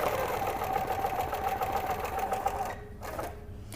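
A sewing machine stitches a quilt along a template ruler with a fast, steady mechanical whir and patter that runs close and loud, then stops abruptly and briefly restarts.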